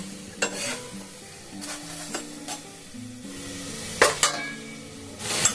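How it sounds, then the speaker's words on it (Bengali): Paratha frying in ghee gives a steady soft sizzle with scattered stirring scrapes and a few sharp clinks of utensils against the pan, close by and without talk. "আমি একটা করে ভেজেও আপনাদের দেখাচ্ছি এরকম ভাজতে ভাজতেই যেন ফুলে উঠছে"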